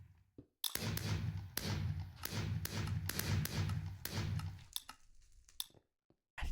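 Fireworks in the Minecraft video game go off in a dense, loud run of rapid thumps and pops, then thin out into a few scattered bursts.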